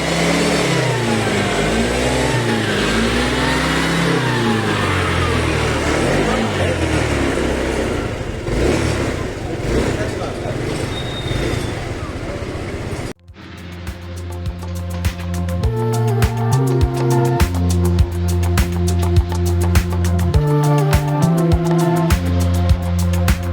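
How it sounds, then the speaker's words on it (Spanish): A repaired motorcycle engine runs on a test ride near Marrakech, first with wind-blown riding roar and shifting revs, then after a brief cut a close, steady rhythmic engine chug with throttle blips. "hasta que al final la moto arrancó y me fui a probarla"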